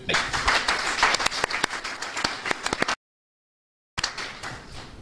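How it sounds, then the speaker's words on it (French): Enthusiastic audience applause at a book launch event, dense rapid clapping from a crowd, loud and sustained, briefly cut off by a second of silence before the clapping resumes. "Je voudrais qu'une fois encore, on l'acclame très fort pour ce."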